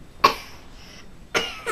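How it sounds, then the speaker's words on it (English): Two sharp coughs from one person, close and loud, about a second apart, followed by the start of a third, with no talking in between. "You gotta cough it out though."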